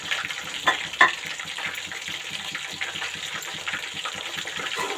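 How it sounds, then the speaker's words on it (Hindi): Fish pieces frying in oil over a medium-low flame, giving a steady close sizzle and bubbling hiss with a couple of sharp pops near the start. "इनको भी अब हम फ्राई कर लेंगे अच्छे से मीडियम टू लो फ्लेम पे"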